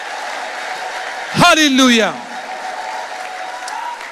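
A church congregation applauds together during a prophet's worship service. The clapping runs steadily throughout, and a voice shouts one loud exclamation over it near the start.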